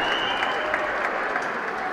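A crowd applauds at a 2018 memorial tournament awards ceremony, a dense burst of clapping that stays steady and loud throughout.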